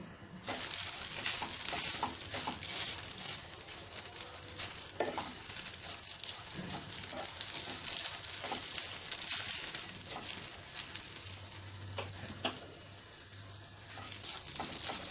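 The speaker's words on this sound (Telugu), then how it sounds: "బీరకాయ తొక్కు కొంచెం కలర్ చేంజ్ అవుతుంది, అంతవరకు వేయించుకోవాలి." Ridge gourd peel frying in a pan, a steady close sizzle running the whole length with occasional stirring scrapes, no voices.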